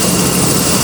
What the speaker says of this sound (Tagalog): dadalhin uli at sasakay dito sa helicopter